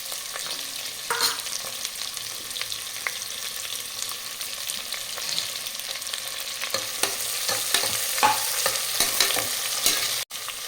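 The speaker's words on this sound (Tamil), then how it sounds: "வெங்காயம் நல்லா வதக்கி எடுத்துக்கலாம்" Onions sizzle in a hot pan while a utensil scrapes and stirs them now and then, with a sharp clack near the end.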